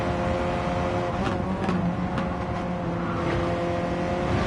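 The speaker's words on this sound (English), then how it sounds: "Gearbox sounds rough, doesn't it? Popping around." A Ford Focus RS race car is heard from onboard in a race, its engine droning loud and steady with a rough, popping gearbox, constant and close with no talk.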